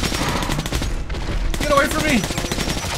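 A heavy gun fires in the video game Metro: Last Light, a rapid burst of loud, close automatic shots that breaks off briefly and then resumes, with a voice speaking over the gunfire.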